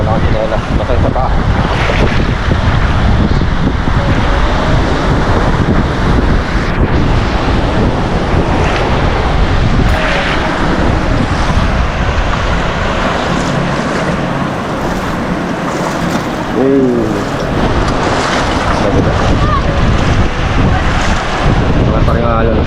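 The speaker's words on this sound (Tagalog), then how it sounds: "Mabot na dito yung alon." Ocean surf at high tide crashes continuously against a rocky tidal pool shore in Casiguran, Aurora, loud and close, with heavy wind rumbling across the microphone throughout.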